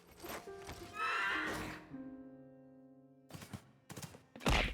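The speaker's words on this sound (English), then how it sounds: "I love that I can ride around on the horse." A horse in Honkai Impact 3rd gives a long whinny that tails off into a tonal fade, followed by a few quick hoof clops and thumps in the game audio.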